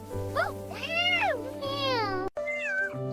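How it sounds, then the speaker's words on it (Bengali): A cartoon cat gives several drawn-out, rising and falling meows in quick succession, clear and close, voiced in a whiny, childlike tone. "mu mu"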